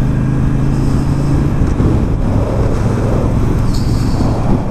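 A Honda Sabre custom motorcycle rumbles along in a steady, loud, low engine drone mixed with road and wind noise, heard close up from the bike as it rides, with no voices.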